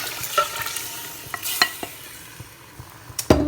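Stock meat goes into a frying Nigerian egusi soup base, giving a soft sizzle with scattered stirring clicks and scrapes, close and moderate, then a louder sizzle burst near the end.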